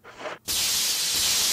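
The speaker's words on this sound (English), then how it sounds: "the hole in the wall used the insecticide" Insecticide sprays in the video game Resident Evil HD Remaster with a short hiss followed by a sudden, loud, sustained spray burst held steadily to the end.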